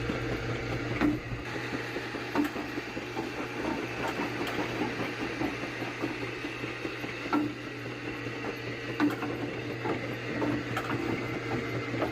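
An AMF 82-95 candlepin bowling pinsetter runs behind the lane, its gears, belts and pawl mechanism producing a steady mechanical whir with repeated ratcheting clicks and occasional louder clacks, alone and fairly close.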